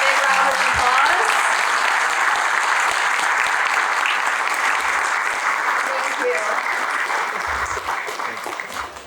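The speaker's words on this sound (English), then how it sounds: "We can give them a big round of applause." Wedding guests at an evening reception give the caterer a big round of applause, a full, continuous burst of clapping that stays loud and tapers only slightly near the end.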